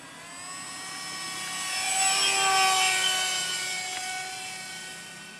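Small three-channel beginner RC plane passing overhead on a low approach before landing, a steady whining motor with a high buzzing tone that swells as it nears and fades slightly as it moves off, no voices.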